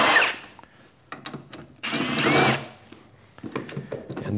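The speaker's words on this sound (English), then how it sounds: "There's just two number two Phillips screws here. And we'll just back those out." A power driver backing out Phillips screws from a Hypertherm Powermax 30 plasma cutter case, two whirring bursts of the tool close by, separated by handling clicks and rattles.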